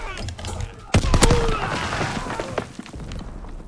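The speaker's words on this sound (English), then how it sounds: "I'm using the PPSH" Rapid submachine-gun bursts from a PPSh with FMJ rounds in a WW2 video game, a sharp onset followed by a dense rattle of shots, loud and close, with speech faintly mixed in.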